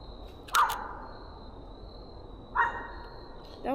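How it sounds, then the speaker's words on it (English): A dog barks on an outdoor trail, three separate single barks spaced a couple of seconds apart, moderately distant against a quiet nature background. "It wasn't him barking. It was another dog."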